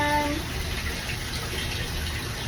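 A shower runs while a dog is being bathed, the water making a loud, steady rushing spray throughout with a low rumble underneath.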